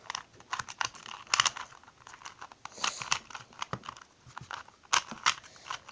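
A 2x2 Rubik's cube is scrambled with rapid, dense plastic clicks and clacks of the layers turning, quiet and close, in uneven bursts without talk.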